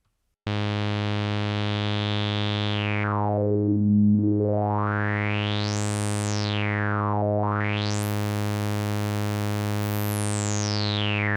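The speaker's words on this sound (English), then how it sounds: "I'm just going to mess around with the Q and the filter cutoff" A sustained synth tone with a sharply resonant filter sweeping down, then up, down again and up, producing a whistling, vowel-like peak that glides across the harmonics.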